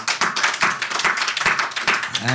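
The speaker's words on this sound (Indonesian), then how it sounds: "Tepuk tangan untuk mereka." Applause from a dangdut audience honoring fellow singers, a dense patter of many hands clapping steadily throughout, moderately close, with no voices over it.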